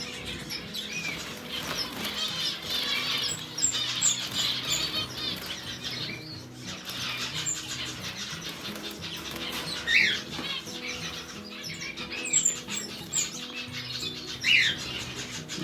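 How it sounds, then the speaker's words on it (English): Blue-faced parrot finches in a breeding setup give soft, scattered chirps and tweets, with occasional wing flutters and light rustling across the stretch, faint and somewhat close, with no talking. "Such beautiful birds."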